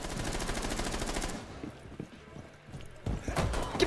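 Rapid automatic gunfire from a video game rattles loudly for about a second, then scattered shots and clatter follow before another burst of firing near the end, with a voice faintly present.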